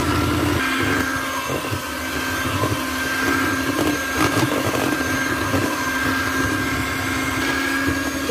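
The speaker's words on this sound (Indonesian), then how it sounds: "Selanjutnya kita akan memixer dengan kecepatan rendah." An electric mixer runs at low speed while mixing a batter for takjil snacks, a steady, close whirring drone with a faint rattling texture, heard alone throughout.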